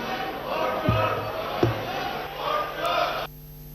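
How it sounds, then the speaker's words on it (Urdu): Members of Pakistan's National Assembly chant slogans for Imran Khan in the chamber in August 2018, a loud, rhythmic crowd roar with shouted bursts and a voice speaking over the din before it cuts off abruptly. "عمران خان کے حق میں زوردار نعرے بازی کی جا رہی ہے"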